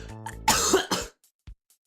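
A person coughs hard, with a couple of harsh, close coughs followed by a smaller throat-clearing sound, then quiet.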